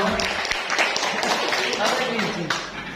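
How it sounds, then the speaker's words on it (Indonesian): Applause from an Indonesian teachers' workshop audience, a dense patter of clapping running steadily for about three seconds with people talking over it. "tepuk tangan untuk kita semua"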